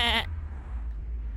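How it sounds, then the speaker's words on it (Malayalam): A sheep lets out one short, nasal bleat that cuts off abruptly, followed by a steady low rumble with no further calls. "കയ്യില് വിലങ്ങായി നടക്കുന്നില്ലേ ഒരു ചെമ്മരിയാട്."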